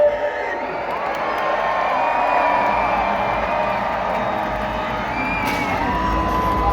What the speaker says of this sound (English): Everybody, scream!